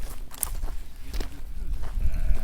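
Sheep bleat intermittently in an outdoor field, with rustling, footsteps and a faint voice mixed into the steady background.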